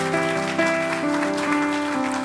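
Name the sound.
church congregation applause of love and encouragement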